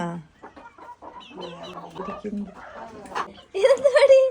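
A hen clucks among her small chicks at a small home poultry yard. Soft clucks and chirps build into a louder, sharper burst of calls near the end, and a person speaks nearby.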